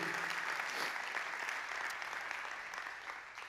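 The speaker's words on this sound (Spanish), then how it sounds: "Este aplauso es para ti, Señor." A church congregation applauding during a worship service, broad continuous clapping that swells early and gradually fades toward the end.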